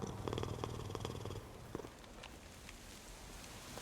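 A cat purrs steadily in the video game Hades 2, a soft low rumble heard alone and fading slightly toward the end.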